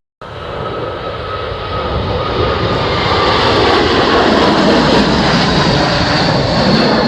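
A Delta airliner on approach to runway 10 right at Dublin Airport on a windy day, a loud, steady jet roar that builds in the first few seconds and holds close and strong.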